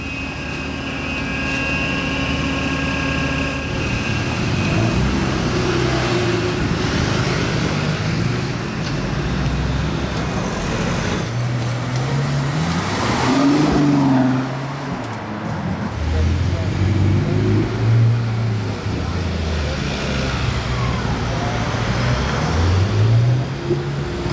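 A powerful Ferrari SF XX engine revs and roars past in Monaco with rising and falling tones, while someone talks over it.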